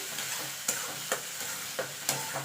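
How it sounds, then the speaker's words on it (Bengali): Flat bean paste is stirred in a cooking pan as its water boils off, a soft steady sizzle broken by a handful of sharp spoon scrapes at uneven intervals, close and fairly quiet with no talking. "এবার এটাকে ভালো করে টানিয়ে নিতে হবে যতক্ষণ এর জলটা ফুটিয়ে না যাচ্ছে ততক্ষণ"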